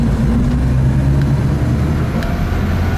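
A 1936 Auburn 852 supercharged woodie estate wagon rolls through a neighborhood, its engine a loud, steady low drone with a faint tonal hum and no change in pace.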